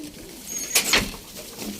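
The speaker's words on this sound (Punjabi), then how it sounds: "ਇਹ ਦੇਖੋ, ਇਹ ਮੈਂ ਤੁਹਾਨੂੰ ਦਿਖਾਉਣਾ ਹੁਣ ਕਬੂਤਰ" A pigeon in poor condition coos briefly while being held in someone's hands, a short low burst rising over faint background noise.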